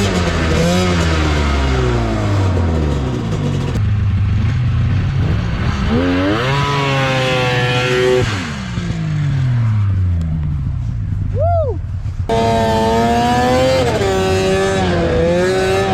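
Snowmobiles with 440cc and 600cc engines scream at high revs during a drag-race launch in a snowy field, their loud rising and falling engine pitches sweeping through the whole stretch without a pause.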